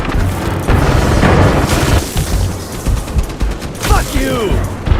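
Grenade explosion and gunfire in Aliens Fireteam Elite: a loud booming blast and bursts of rapid shooting fill the start, then continued crashing combat noise with a brief shout near the end.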